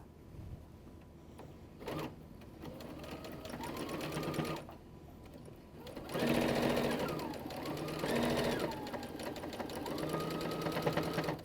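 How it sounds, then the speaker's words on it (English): A sewing machine stitches rows of a t-shirt quilt top together, humming steadily up close with bursts of faster stitching and brief slowdowns, while a voice talks over it. "I just need to bring it to the sewing machine, stitch my rows together"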